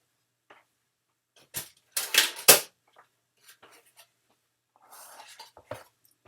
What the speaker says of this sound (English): I just have this little guillotine trimmer that works really well